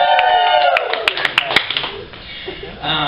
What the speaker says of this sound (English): Any dog lovers out here? Animal lovers? Just a round of applause.